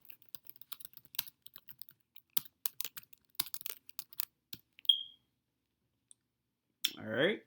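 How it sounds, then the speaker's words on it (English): Keys clatter in quick, uneven bursts as a query is typed on a computer keyboard, close and fairly quiet, followed by a short beep and a brief burst of voice at the end. "it's me typing in my query."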